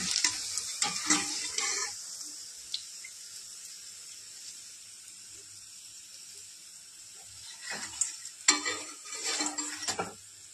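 Lettuce leaf pakoras sizzle in hot oil in a pan, a steady bright fizz underneath occasional stirring and turning noises that cluster near the start and again toward the end.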